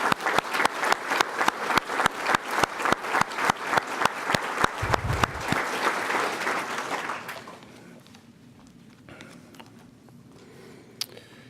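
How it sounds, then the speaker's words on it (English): At an outdoor Memorial Day ceremony, a crowd gives a round of applause: rhythmic unison clapping for about five seconds, then scattered clapping tapering off into quiet. "One more round of applause for Sam, Beatrice, and Elizabeth."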